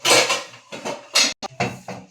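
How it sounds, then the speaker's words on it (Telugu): A lid going onto a cooking pot of cauliflower curry, several close metallic clanks and rattles in short bursts with brief pauses between them. "ఆపేసి మూత పెడుతున్నాను"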